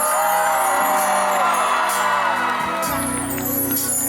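A loud crowd whooping, screaming and cheering continuously at a free concert at CentralWorld, with music or amplified sound underneath.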